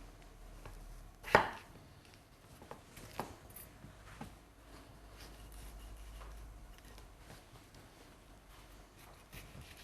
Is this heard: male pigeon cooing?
no